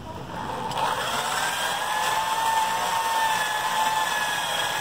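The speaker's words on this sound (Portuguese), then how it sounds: "Aí vão prender a furadeira e fazer a mesma coisa." A steady whining electric drill lapping an engine valve into its seat runs continuously at close range, with a constant motor pitch and a faint grinding edge.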